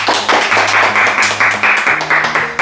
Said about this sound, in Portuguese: uma salva de palmas bem forte pro pessoal